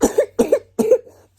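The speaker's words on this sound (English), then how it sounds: "started to have a really bad cough" A young child, sick with a persistent fever, coughs three times in quick succession, each a harsh, close burst with short gaps, followed by a faint trailing breath.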